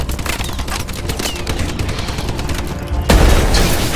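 Automatic sentry turret in Black Ops 2 Zombies rattling off continuous rapid gunfire, dense and steady, swelling louder and heavier near the end.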